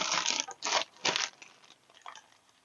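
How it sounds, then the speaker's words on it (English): Powdered sugar sifted through a sieve onto a hot gooey butter cake, three close bursts of dry rustling shakes followed by fainter, sparser taps as the sifting winds down. "And then we're gonna add some powdered sugar to the top while it's still hot."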